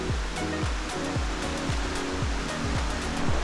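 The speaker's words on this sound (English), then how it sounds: "this river has been following the trail the whole time" A river runs alongside the eastern Lycian Way trail, its steady, full rushing of water filling the scene without pause, with repeated low tonal sweeps sounding over the flow.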